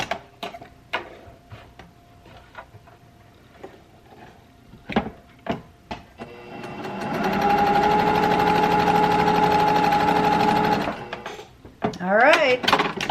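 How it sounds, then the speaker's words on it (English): Sewing machine stitching in a steady whirring run of about four seconds, framed by clicks and handling noises before and after, close to the microphone. "it's sewing fine"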